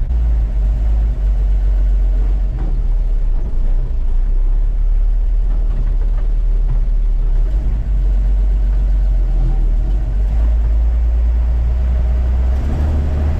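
Car engine idling and pulling slowly forward with a trailer hitched behind, a loud steady low rumble throughout with little change in pitch.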